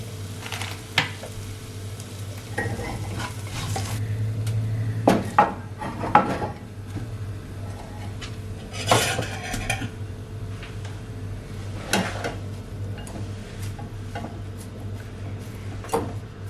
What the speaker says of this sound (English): So once I'm done mixing, this is our tamarind rice.